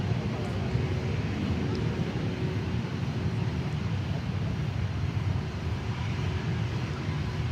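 An Atlas Air Boeing 747 arriving from Anchorage lands on runway 9 at Miami airport, heard as a continuous loud low engine roar with wind buffeting over the whole stretch and no clear talking.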